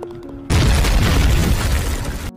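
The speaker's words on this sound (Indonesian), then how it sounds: "Lalu tiba-tiba sebuah bom meledak dan menewaskan si bos gangster tersebut." A bomb blast in a film, where a gangster boss is killed on a golf course, bursts in suddenly as one loud, sustained roaring boom lasting nearly two seconds before cutting off abruptly.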